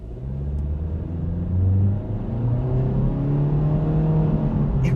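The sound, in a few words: 2025 Honda Civic engine accelerating with CVT transmission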